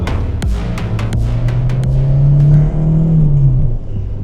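A 1991 Peugeot 205 GTI on the infield at Le Mans, engine droning and climbing in pitch as the car accelerates, heard from inside with steady rumble and sharp clicks early on.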